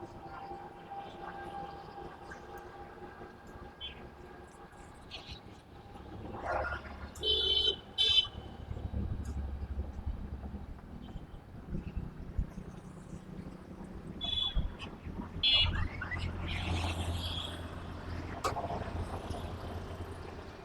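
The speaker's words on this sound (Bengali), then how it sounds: "ফকিরাপুলের মেন রাস্তা দিয়ে আমি যাচ্ছি।" Street ambience along Fakirapul main road in Motijheel, Dhaka during the Eid holiday: a low traffic rumble with passing vehicles, scattered horn blasts and distant voices, moderately quiet overall.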